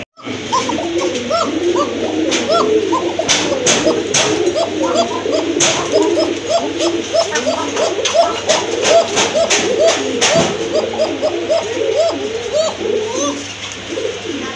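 Several pigeons coo continuously and loudly up close, a dense layered burbling, punctuated by sharp clicks and taps.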